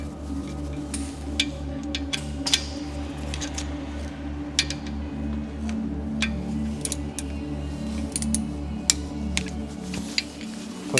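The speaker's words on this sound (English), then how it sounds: "we're going to correctly torque this bolt up now. Not usually very high, so it should click quite easily" A torque wrench tightening a brake bolt during a DIY disc and pad fitting, with a series of sharp, irregular clicks and ticks over a steady low engine-like hum, close and moderately loud, with no talking.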